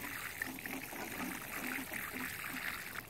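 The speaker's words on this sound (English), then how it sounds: "now we want to water it in well" Water poured steadily from a can or hose onto the soil around newly transplanted tomato plants in a garden bed, a continuous trickling splash at close range with faint voices in the background.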